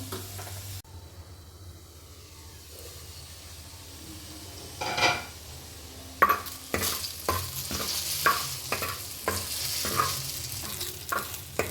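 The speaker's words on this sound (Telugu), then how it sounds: "ఉసిరికాయ ఆగటం కొద్దిగా లేటు అందుకని అవి మళ్ళీ నిదానంగా వేపుతున్నాను" Amla gooseberries slowly frying in a pan, a low steady sizzle that turns into a busy run of quick, repeated scraping and clinking strokes from stirring in the second half, close up.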